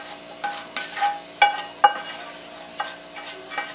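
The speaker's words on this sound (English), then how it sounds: "we're going to add these sauteed vegetables in the butter" Sautéed vegetables in butter are scraped and spooned from a pan into a bowl of bagged stuffing for a Thanksgiving casserole. Close, irregular metallic clinks and soft scrapes repeat over a faint steady hum.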